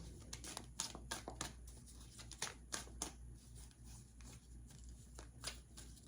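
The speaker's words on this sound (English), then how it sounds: "as I'm shuffling these cards" A deck of tarot cards is shuffled by hand, giving repeated soft riffling and slapping bursts in an uneven rhythm against quiet room tone.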